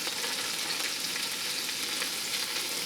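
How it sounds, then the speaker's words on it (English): Celery, onions and carrots sautéing in a pan, a continuous close, bright sizzle and crackle of frying vegetables with no talking. "I'm going to saute these until they get soft, or slightly soft."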